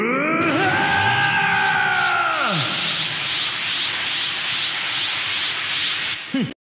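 Someone imitates Gohan's beast scream from the Latin Spanish dub, a loud sustained voiced yell that shifts into a harsh, gritty roar lasting several seconds before cutting off.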